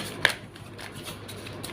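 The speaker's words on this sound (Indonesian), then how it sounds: "Langsung saja saya shuffle kartunya." Tarot cards being shuffled by hand, a quick crisp riffle near the start followed by soft, faint paper rustling, with no talking.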